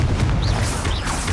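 In Hogwarts Legacy, a Confringo fire spell erupts as a dense, rumbling blast with crackling high shimmer, loud and continuous over a short stretch.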